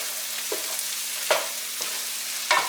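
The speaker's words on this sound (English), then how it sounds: "right now nothing's burning, but it is sizzling" Melted butter sizzling in a pan on medium heat while making mushroom pasta, a steady soft hiss broken by a few sharp scraping stirs, with no talking.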